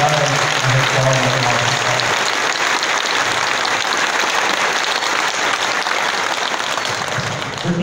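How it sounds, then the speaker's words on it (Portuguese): Sustained applause from a church congregation at a patron saint's feast Mass, steady dense clapping filling the space at close range throughout, with no one speaking over it. "vamos dar mais uma salva de palmas para nós"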